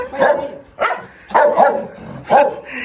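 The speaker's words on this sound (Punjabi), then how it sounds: "ਵੇਖ ਲਾ ਉਹਦਾ ਭੌਂਕਣਾ ਤੇ ਇਹਦਾ ਭੌਂਕਣਾ ਫਰਕ ਬਹੁਤ ਫਰਕ" Dogs bark in four loud, spaced barks at close range, each a sharp yelp with a brief fading tail, steady and alone without talk.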